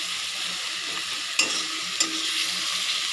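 Garlic paste sizzles steadily in hot oil for a spicy yogurt chicken curry, with a constant close hiss and two sharp scrapes of a spoon stirring the pan.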